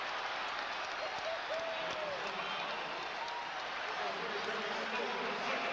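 A thousand Villanova fans at a men's college basketball game against UConn cheer and applaud in a sustained, roaring wash of clapping and shouts, with voices audible in the crowd throughout.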